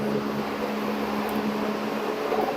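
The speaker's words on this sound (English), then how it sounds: "Because they're making something from scratch with the blender." A blender runs in a Middle Eastern restaurant kitchen in San Miguel de Allende, a steady motor whir with constant broadband noise, moderately loud and unchanging for a couple of seconds, no talk over it.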